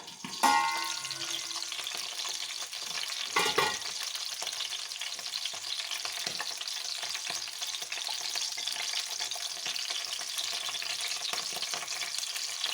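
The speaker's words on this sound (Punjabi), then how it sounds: "ਕੜਾਈ ਉੱਪਰ ਟੱਕਣ ਦੇ ਕੇ ਇਹਨਾਂ ਨੂੰ ਪਕਾਵਾਂਗੇ" Stuffed capsicums frying in a covered kadai, a steady close sizzle and crackle of hot oil running throughout with a clatter of lid or utensil near the start and again a few seconds later.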